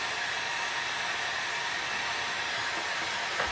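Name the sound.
hair dryer drying a painted candy jar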